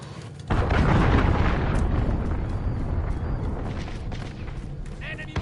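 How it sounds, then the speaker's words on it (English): Heavy explosions from a cruise missile strike in Call of Duty: Modern Warfare rumble in a dense, sustained roar for several seconds, with crackling debris throughout and voices talking over the blasts. "Allied cruise missile on the way."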